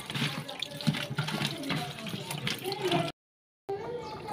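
A running tap pours steadily into a sink while puti fish are rinsed, a close, full gush of water that cuts out briefly and then resumes.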